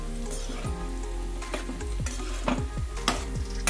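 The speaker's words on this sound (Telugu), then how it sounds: "ఆయిల్లో కాకుండా నెయ్యిలో వేయించినందువల్ల ఎర్రగా ఇలాగా కలర్ వచ్చేంత వరకు వేయించుకోవాలి" Bread pieces fry in ghee in a pan, giving a steady sizzle broken by several scraping stirs and turns.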